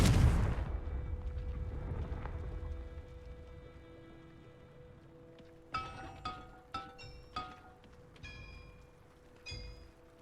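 Confringo blasting curse in the Hogwarts Legacy video game: a loud blast bursts at the start and rumbles away, followed later by a run of sharp, ringing magical impacts and chimes.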